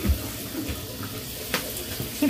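Water splashes and trickles around a Cocker Spaniel puppy during its first bath at a sink or tub, a steady wet wash with a few louder splashes near the start and end, nearby and moderately loud.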